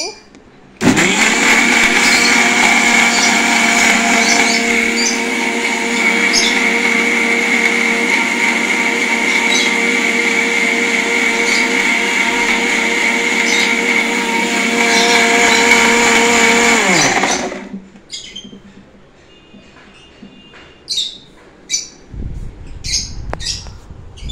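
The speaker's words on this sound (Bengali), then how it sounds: "এটাকে আমি আবার একটু এটাকে মিক্সার গ্রাইন্ডারে আওয়াজ হচ্ছে" A kitchen mixer grinder whirs loudly and steadily for about sixteen seconds while blending milk, then switches off and winds down, leaving faint clinks and handling sounds.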